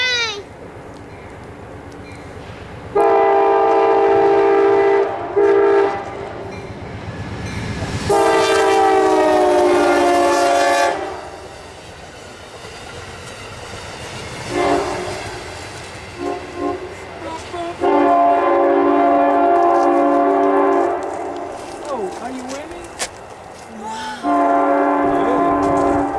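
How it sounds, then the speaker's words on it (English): A passing train sounds its horn in several long, loud blasts separated by gaps, over a steady rumble of rolling wagons nearby. "There's a train!"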